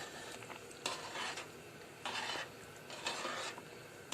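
A spoon gently stirring rice in a pot of chicken yakhni pulao, a few soft scraping and clinking strokes in short bursts with pauses between, close and fairly quiet, no talking.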